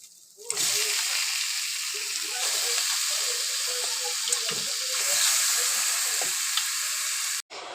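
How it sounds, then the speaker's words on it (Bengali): Chicken gizzards and liver sauté in a spice masala with fried potatoes added, producing a steady close sizzle with stirring scrapes, cutting off abruptly for a moment near the end. "গিলে মেটেগুলো ভালো করে কষিয়ে নিচ্ছি এবং ভাজা আলুটাও ওর মধ্যে দিয়ে দিলাম।"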